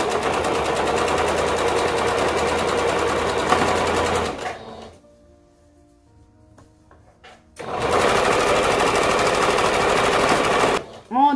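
A sewing machine top stitches a seam with a 3.5 straight stitch on a toddler maxi dress. Two loud, steady bursts of stitching are split by a quiet pause, followed by a short clatter at the end.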